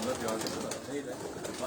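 Pigeons kept on a rooftop loft, with soft overlapping cooing and wing flutters under steady crowd noise and nearby talk.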